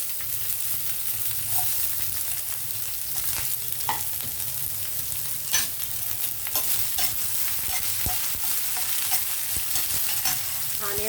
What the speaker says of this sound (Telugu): ఇప్పుడు ఉల్లిపాయలు వేస్తాం మనం.